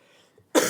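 A single sharp cough bursts out at the very end after near silence, loud and close, with a faint murmur before it.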